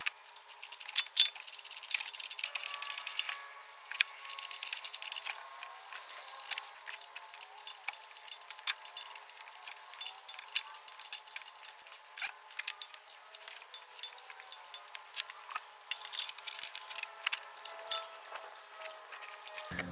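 Small metal wrench clicks and light clinks from a 10 mm wrench tightening the timing belt tensioner adjustment screw on a Honda F22/F23 SOHC engine, a steady run of close, crisp ticks without talk.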